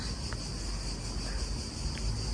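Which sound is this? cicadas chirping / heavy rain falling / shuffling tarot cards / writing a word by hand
cicadas chirping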